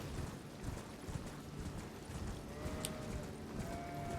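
A horse's hooves clip-clop in a steady trotting rhythm while riding through Elden Ring, quiet and continuous under low game ambience.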